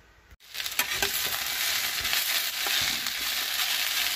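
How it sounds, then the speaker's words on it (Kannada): Okra fries in hot oil in a pan with a steady, bright sizzle that starts abruptly after a brief pause and continues close and even throughout, with occasional stirring scrapes. "ಎಣ್ಣೆ ಹಾಕ್ಕೊಂಬಿಟ್ಟು ಚೆನ್ನಾಗಿ ಹುರ್ಕೊಳ್ತೀನಿ ಕೆಂಪಿಗೆ."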